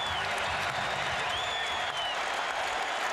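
A basketball arena crowd roars and applauds after a block in a Cavaliers–Pistons game, a dense, sustained wash of cheering and clapping with a few whistles rising above it.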